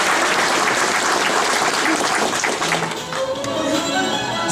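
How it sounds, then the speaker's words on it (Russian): Sustained applause from a crowd at an anniversary celebration of an aviation repair plant in Ivanovo, dense and steady clapping throughout, loud and close, with no voices over it. "Аплодисменты, аплодисменты, пожалуйста."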